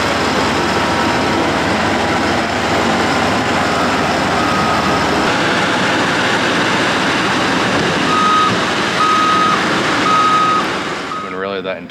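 A gravel truck backs up on a rough road at a slope stabilization job site, its engine rumbling steadily while evenly spaced reversing beeps sound in the later seconds, with some speech mixed in.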